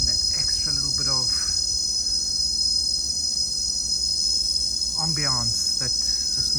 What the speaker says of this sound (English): the cicada beetles that have just come out now are just adding that extra little bit of